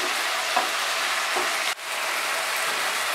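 Banana flower curry with prawns sautéing in a pan, a steady broadband sizzle of frying with a couple of soft stirring scrapes and a brief dip near the middle, no voices.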